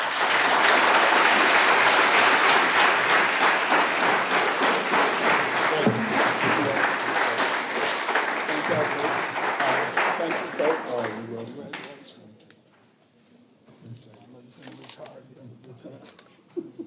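A crowd at a Northside Grizzlies special event applauds for an award winner, dense clapping with some cheering that stays loud for about ten seconds, then thins and fades out, leaving a few scattered claps and low murmuring.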